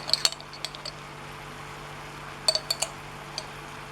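Metal utensils clink against a pan or pot while vegetables with green beans are added for frying at the pan's edge, a few sharp close taps and scrapes in short clusters over quiet kitchen hiss.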